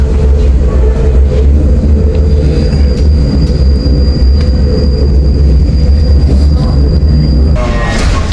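A metro train ride in Saudi Arabia: loud continuous rumble of wheels on rails from inside the carriage, with a steady high whine and a brief squeal toward the end.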